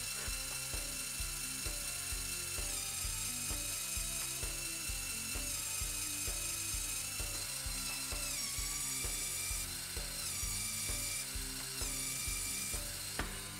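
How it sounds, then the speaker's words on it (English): LEGO Technic motor in a Bell Boeing V-22 Osprey model straining against a blocked output, its slipping clutch ratcheting in rapid, continuous mechanical clicks over a whirring gear drone, close and steady, with no talk. "you can still hear how the motor is stressed if one or both outputs are blocked"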